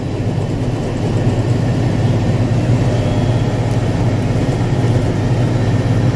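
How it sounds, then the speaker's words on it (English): An LS XR4140H tractor drags a rear box blade lightly across a gravel driveway, a steady heavy engine drone with a rough, gritty texture underneath, close and continuous. "just barely pulling a little gravel, but I'm riding on that back blade"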